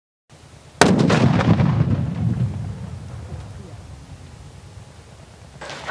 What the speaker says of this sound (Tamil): நம்ம வெடிக்க போறது மெகா சைஸ்ல இருக்கக்கூடிய டவுன் பாம்